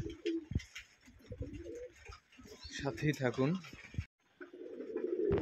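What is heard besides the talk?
racing pigeons cooing in a loft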